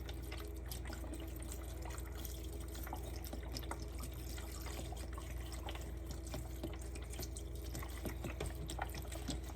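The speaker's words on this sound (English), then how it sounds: "I'm gonna finish it off with the chicken broth. So we're gonna add that in there." Chicken broth is poured from a box into a pan for an Easter dinner dish, giving a steady faint trickle and splash with small drips and no voices.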